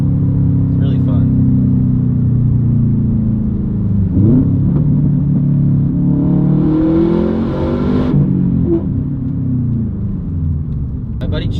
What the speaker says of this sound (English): The engine revs up pretty quick when you downshift to rev match